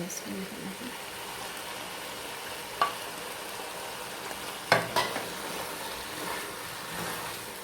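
A chicken and spinach curry with fresh coriander leaves is stirred in a frying pan, giving a soft steady sizzle with a few sharp scrapes and clacks of the utensil against the pan.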